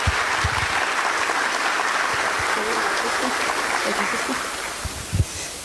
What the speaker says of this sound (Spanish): Vamos a regalarles un fuerte aplauso para que ellos continúen con su interpretación